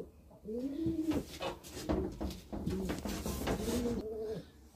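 Old racing pigeons coo repeatedly at close range, a series of soft rolling calls in an uneven rhythm lasting several seconds with faint background rustle.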